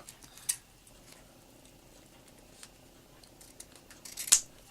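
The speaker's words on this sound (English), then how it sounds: "now I'm going to trim off the extra" Scissors trim excess paper while making a paper caterpillar, giving two crisp, close snips, one early and a louder one near the end, separated by quiet handling rustle.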